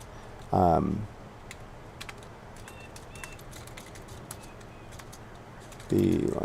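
Light clicks of a computer keyboard being typed on run steadily through the middle, fairly faint and close, with brief bursts of a voice at the start and end.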